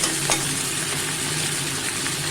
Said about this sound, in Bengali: লাউটা দিয়ে ঢাকনা দিয়ে ভেজে দিলাম